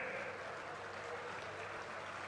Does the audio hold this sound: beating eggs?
no